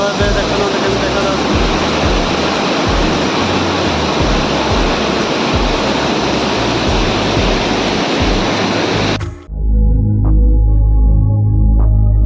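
Ranigpanga and Ludu waterfall roars as a loud, dense, continuous rush of falling water that fills the scene, then cuts abruptly near the end to quieter music.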